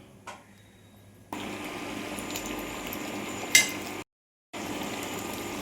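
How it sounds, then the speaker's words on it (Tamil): Poondu kuzhambu, a garlic curry, bubbles in a pan with a steady, close simmering hiss, briefly cut off, with a faint utensil clink. "இது இப்போ நல்லா கொதித்து எண்ணெய் பிரிஞ்சு வரணும், அந்த அளவுக்கு இது கொதிக்கணும்."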